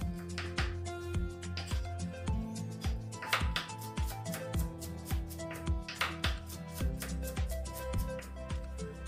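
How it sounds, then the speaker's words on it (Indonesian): Five garlic cloves being minced with a knife on a cutting board, a steady string of quick, fairly faint knocks repeating throughout, with soft background music. "sekarang kita iris-iris sedikit agak cincang bawang putih ya teman-teman"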